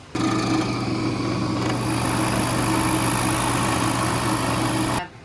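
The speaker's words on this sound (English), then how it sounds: "And then we're gonna put it on the lathe." A wood lathe motor runs at a steady, loud hum with a constant high whine, starting abruptly and cutting off after about five seconds.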